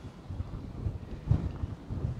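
Wind blowing across a crowded, stormy boat anchorage off the US East Coast: gusty rumbling buffets against the microphone, rising and falling in irregular low bursts, with no voices.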